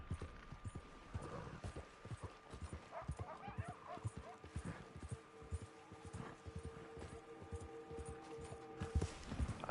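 Horse hooves clip-clopping in the Red Dead Online game, a steady rhythmic run of hoofbeats that carries on beneath frequent talking, with a dog barking now and then.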